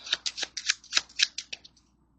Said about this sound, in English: they can shuffle the deck as much as they want